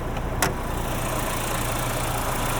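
A 2025 Ford Bronco Big Bend Sasquatch with a 2.3-liter EcoBoost engine idles with the hood open, a steady low hum with a brief click near the start.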